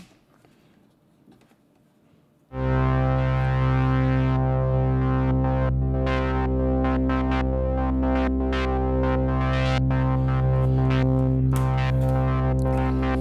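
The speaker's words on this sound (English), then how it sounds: "what happens if I stick a sample and hold into cutoff?" A modular synthesizer drone with its filter cutoff driven by a sample and hold, entering abruptly after a near-silent start, then sustaining loud and buzzy with a bright edge that jumps in quick, irregular stepped changes.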